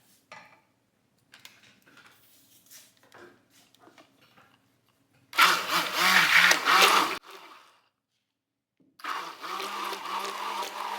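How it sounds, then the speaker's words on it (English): An immersion blender whirs loudly through goat's milk soap mixture in two bursts of a couple of seconds each, separated by quiet, after softer clinks and taps of utensils. "so I'm going to go ahead and use my immersion blender"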